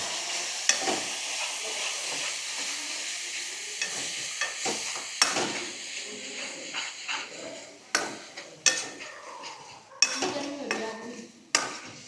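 Spices with garam masala cook in a pan over a village kitchen fire, a soft steady sizzle broken by repeated scrapes and clinks of a stirring spoon against the pan, close by with no talk.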